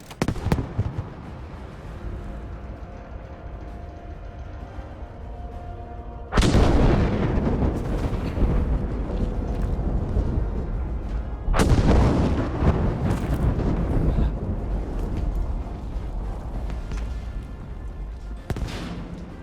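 Huge fuel tank explosions on Wake Island in Battlefield V hit as loud, sudden booms with a long rumbling roar after each blast, about three big detonations over steady background battle noise.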